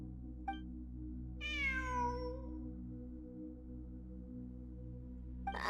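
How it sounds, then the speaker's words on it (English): A single drawn-out cat meow rises and falls in Genshin Impact, heard clearly over a low steady hum, with faint clicks before and after. "It really is a cat."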